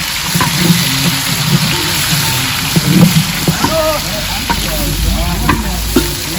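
Onions fry in hot oil in a pot over a wood-fired village stove while being stirred for mutton, with a steady loud sizzle, scraping stirs and people talking over it.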